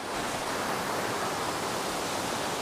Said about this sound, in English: look what I found. The waterfall.